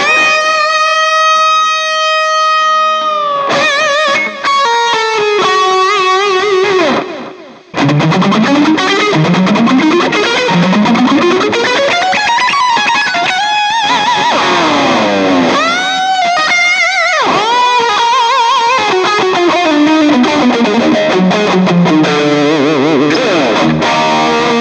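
An electric guitar plays through a Cuvave Cube Baby amp with delay switched on. Notes ring, slide and repeat in trailing echoes, loud and up close, with a long sustained chord opening before sweeping lines follow.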